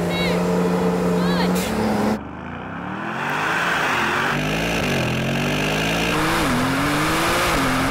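Brabus 900 Rocket R holding on the brake, then launching hard in a drag race: a loud engine drone surges and climbs through gear changes, with people talking excitedly over it.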